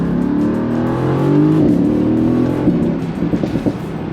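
A 2018 Mercedes-Benz AMG GT V8 under hard driving, loud and close, with a steady sustained engine roar rising in pitch before easing into a burbling, crackling off-throttle rumble near the end.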